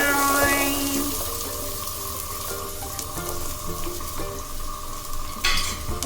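Onions sizzle in oil with cumin for paneer butter masala, a steady frying hiss under clinks of a spoon against the pan and a few stirring scrapes, close and without talk.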